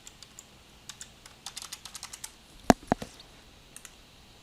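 Quick, light keystrokes on a computer keyboard as a document password is entered, a steady run of soft clicks topped by two sharper, louder key hits, close and without speech.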